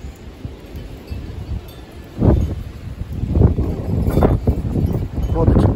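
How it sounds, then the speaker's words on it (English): Strong gusty wind blows during a rainstorm, low roaring buffets that swell and surge into heavy rumbling gusts against the microphone, with a person's voice now and then. "Bro, the wind is blowing behind me."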